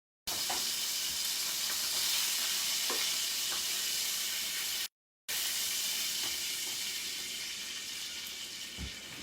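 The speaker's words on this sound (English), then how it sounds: "So we're going to put that steak right on here." Steak sizzling loudly in a hot pan, a steady bright hiss that carries through, briefly cut off in the middle, with small pops and crackles over it.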